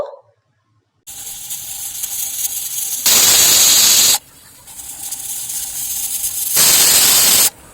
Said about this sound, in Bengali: প্রেশার কুকারের ঢাকনা আটকে গ্যাস অন করে বসিয়ে দিচ্ছি আর দুটো সিটি দিয়ে দেবো